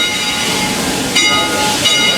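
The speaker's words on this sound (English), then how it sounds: "And that is a genuine steam locomotive." A Heisler geared steam locomotive, the oldest operating one, runs on the Roaring Camp & Big Trees railroad, giving a steady broadband hiss and rumble with two brief louder bursts of steam.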